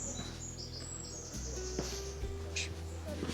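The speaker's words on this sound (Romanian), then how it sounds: "E liniște, se aud păsările" Birds chirp and call in a quiet forest near Sintra, Portugal, with a few short, thin tweets standing out over a soft, steady background hum.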